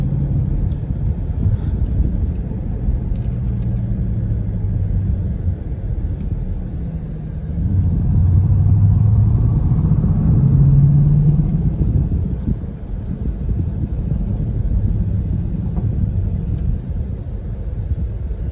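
Dodge Durango SRT engine rumbling while driving, a steady low drone with road noise inside the cabin that swells louder for a few seconds in the middle before settling back.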